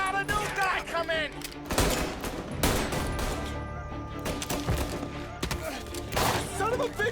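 Gunfire in the video game Mafia: Definitive Edition, with bursts of rapid shots and loud cracks mixed with shouting voices across the fight.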